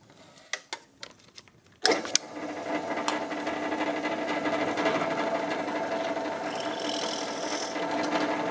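A drill fitted with a snail countersink cutter bores countersinks for screw heads in wood: a few sharp taps and clicks, then a sudden close burst as the drill starts, settling into a sustained whirring grind with slight rising and falling.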